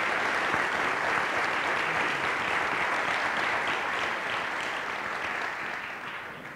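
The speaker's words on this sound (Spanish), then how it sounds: "Un aplauso gigante para ellas, ellos y las comunidades todas" Sustained applause from a large audience at a municipal public accounts ceremony, a dense even wash of clapping across the whole stretch that eases slightly toward the end.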